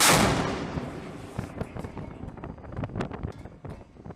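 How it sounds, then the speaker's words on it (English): An Mk-45 naval gun fires aboard a US Navy destroyer at sea. One loud, booming blast opens and fades into rumbling echoes and wind buffeting. "The Mk-45 can fire 16 to 20 rounds per minute"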